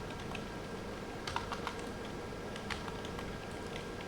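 Light typing on a computer keyboard, a few scattered bursts of soft key clicks over a faint steady room hum, close and quiet, no talking.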